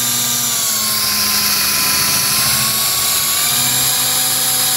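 A 5/32 drill bit bores through a lock plug in one continuous, loud, close whine, the motor's pitch wavering slightly as the bit cuts, with no voices.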